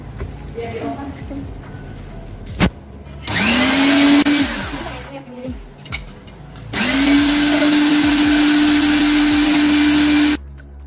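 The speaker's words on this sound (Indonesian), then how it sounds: "Selanjutnya, daging ikannya di grinder menggunakan meat grinder." An electric meat grinder grinds carp fish meat, spinning up to a loud, steady motor whine in two long runs with quieter handling noises and clicks between them.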